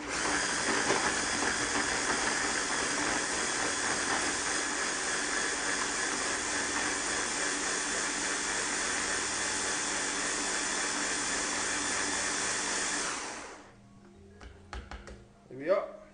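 Blender whizzing ground allspice, cloves and peppercorns into a spice marinade, a loud steady high whirring drone for about thirteen seconds that cuts off abruptly, followed by quiet clatter.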